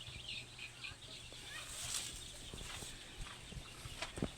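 A Texas hen on a small backyard egg-laying setup clucks faintly in short, scattered bursts over low background hum, with a voice murmuring quietly nearby.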